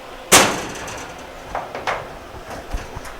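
A small hammer gives a sharp metallic tap that rings out, followed by a few lighter, irregular taps against metal while freeing a tack weld, close and fairly loud.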